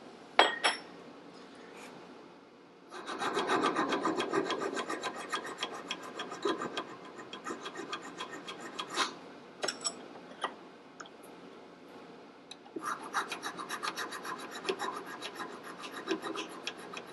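Steady rasping strokes of a file on rusty metal of a 1958 Harley-Davidson Sportster XL, close and fairly loud, with a brief lull midway before the scraping resumes.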